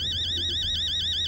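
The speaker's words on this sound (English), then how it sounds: "Oh, that's my alarm" A warbling electronic alarm tone from a home invasion horror video game sweeps up and down in a rapid, steady cycle, loud and continuous over a low hum.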